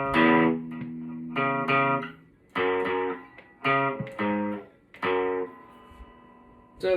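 The opening riff of a song rings out on a distorted electric guitar, played as single-note phrases in short bursts with pauses between them, close and fairly quiet, with no talking.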